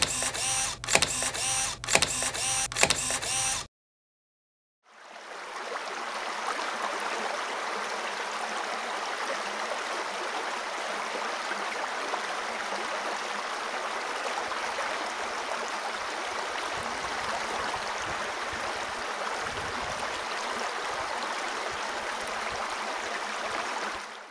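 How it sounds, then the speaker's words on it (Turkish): Steady rushing water of the waterfall at Soğukpınar, a broad continuous roar that begins after a few seconds of clicking and a brief silence, then holds evenly to the end. "yaz ve kış büyük ilgi gören şelale"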